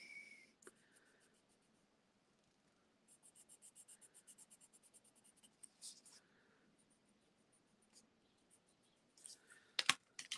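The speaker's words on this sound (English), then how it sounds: "I absolutely love the watercolor pencils for coloring." Soft, rhythmic scratching of a watercolor pencil coloring on paper in short bursts, close and quiet, with pauses and a few faint clicks in between.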